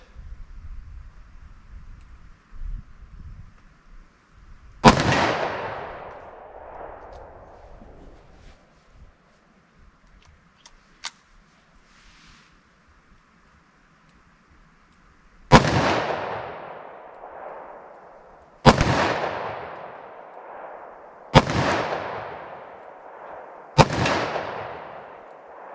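Five sharp gunshots from a 2-inch barrel .357 Magnum revolver firing Norma Safeguard ammunition outdoors, spaced by several seconds with a tighter run of four near the end, each a loud crack followed by a ringing decay, with faint wind between.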